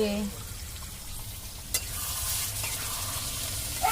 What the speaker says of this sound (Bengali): এই মাংসটা একটু ভালো করে কষিয়ে কষিয়ে রান্না করলে যত কষানো হয় তত বেশি টেস্ট হয়